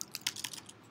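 Someone types on a laptop computer keyboard, a quick run of crisp, close key clicks with uneven rhythm.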